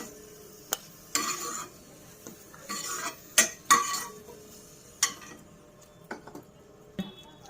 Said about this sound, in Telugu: అదే నేతిలో కిస్మిస్ని కూడా మనం వేసుకొని దోరగా వేయించుకోవాలి